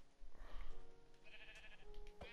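A sheep bleats in Minecraft, a short wavering call over soft background music, with a brief sharper chime near the end.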